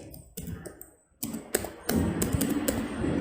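Key taps on a computer keyboard while a disk partition command is entered, a quick irregular run of sharp close clicks after a brief pause, with faint background noise.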